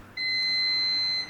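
A washing machine gives one steady electronic beep, a clear tone of about a second, alone and fairly close.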